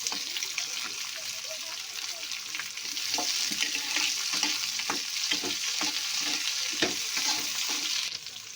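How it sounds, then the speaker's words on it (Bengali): Spice masala of onion, ginger, garam masala, cashews and black pepper frying and being stirred in a pan for a katla fish curry, a steady hiss with scraping stirs throughout, close and moderately loud. "এটা 5 মিনিটের জন্য মশলাটা ভেজে নেব।"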